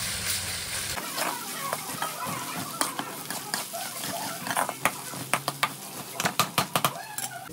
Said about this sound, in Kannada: ಶುಂಠಿ ಬೆಳ್ಳುಳ್ಳಿ ಪೇಸ್ಟ್ ಫ್ರೈ ಆಗಬೇಕು.